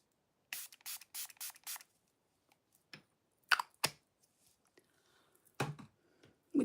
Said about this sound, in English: We're going to put some like glowy spray on, some setting spray.